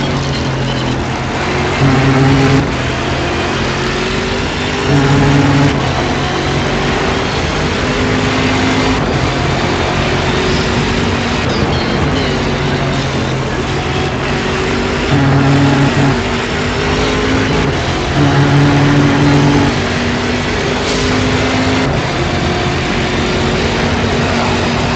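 Race car engine in the GSC2012 racing game pulling out of the pit lane at Taruma: a loud, steady droning engine tone with a few rising swells of revs, heard alone without talk.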